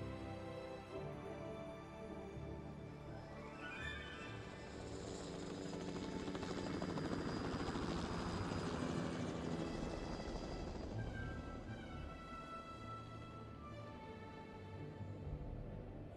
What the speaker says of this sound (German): War das schon immer so, dass man mit einem Helikopter hier ankommt?